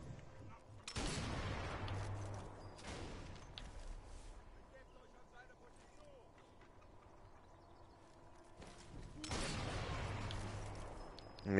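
Two heavy sniper rifle shots in Sniper Elite 4, spaced several seconds apart, each a loud boom with a long echoing tail, against a quiet outdoor game background with people talking.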